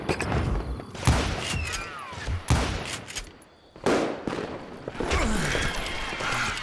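Sharp, loud shots ring out at irregular intervals from enemy sharpshooters in the Western shooter Call of Juarez Gunslinger, each crack followed by a ringing tail, with ricochet whines and rumbling between them.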